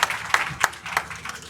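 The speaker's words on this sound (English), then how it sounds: "Can we please clap for him for that?" An audience at a talk on literacy in Northern Nigeria claps briefly, a short scattered round of handclaps with a few sharper peaks over under two seconds.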